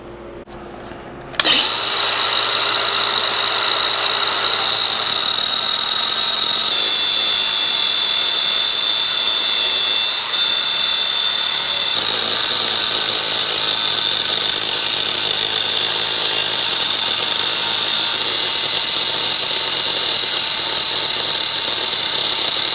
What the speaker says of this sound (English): So I'm going to cut it off, and then we'll weld it back together.